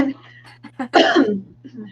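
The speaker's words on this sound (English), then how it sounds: "I still coughed right into the mic" A single harsh cough or throat-clearing bursts out close to the microphone, with a steady low hum underneath and brief murmuring before it.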